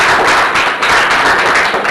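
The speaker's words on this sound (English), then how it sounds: "Can we clap for them?" A group claps together in a discussion session, a loud, close, continuous wash of applause that lasts the whole short stretch.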